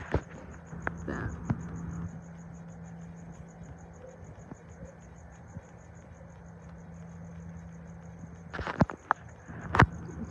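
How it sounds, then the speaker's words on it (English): Crickets chirp at night in a fast, even, continuous trill, steady and fairly faint under low background noise, with a few louder knocks and clicks near the end. "the crickets are loud"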